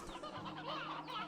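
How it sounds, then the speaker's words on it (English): Many hens clucking together in the Slime Rancher 2 video game, a dense, continuous chatter of overlapping bird calls. "That is a lot of hens, and we're not done."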